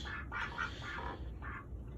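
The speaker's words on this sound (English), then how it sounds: "We got about 20 chickens, 4 ducks." Ducks quack in short repeated bursts at a farm chicken coop housing about 20 chickens and four ducks, fairly faint over a steady outdoor background hum.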